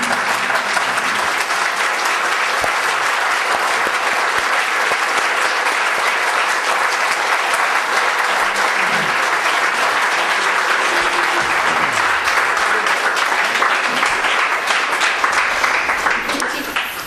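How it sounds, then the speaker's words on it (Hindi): A standing audience applauds to honour a guru at a spiritual retreat, with loud, dense, sustained clapping that continues evenly for about seventeen seconds. "सभी लोग खड़े होकर के उनके सम्मान में करतल ध्वनि से ताली बजाएं"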